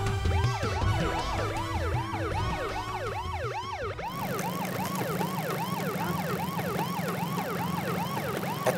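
A wailing ambulance siren repeats rapid rising-falling cycles, loud and close, over traffic rumble, with a second siren pattern layered on for the whole stretch.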